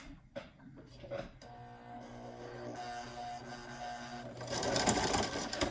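A sewing machine hums and clatters steadily while stitching around a fabric face mask, the motor drone growing busier toward the end, with a few soft handling clicks near the start.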